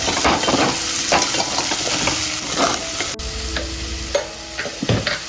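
Garlic, green chili and unripe green tomatoes sauté in a pan, with a steady close sizzle and repeated scraping, clattering stirs of a spoon against the pan, and no talk.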